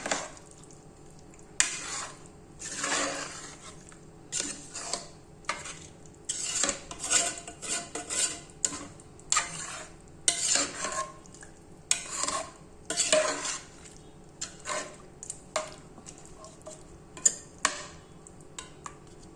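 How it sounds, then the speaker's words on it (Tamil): A spoon or ladle stirs chicken biryani in a pot, giving repeated scraping and clinking strokes against the metal, close and fairly quiet, with no talking. "இதெல்லாம் போட்டு விட்டு நல்லா கிளறி விட்டுக்கோங்க"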